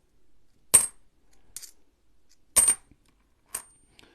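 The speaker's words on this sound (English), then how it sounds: "Get through these 50-cent coins." Australian 50-cent coins dropped and handled during a coin search, with four separate metallic clinks and jingles in irregular bursts, two louder close clattering spills and two lighter taps against a quiet background.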